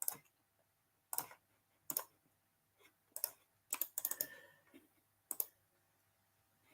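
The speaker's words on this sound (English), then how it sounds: "Just clicking through so we can start the next game week" Computer mouse clicks while paging through menus of a football management game, arriving as sharp, isolated clicks in irregular bursts, several doubled in quick succession, close and clear against a quiet background with no talking.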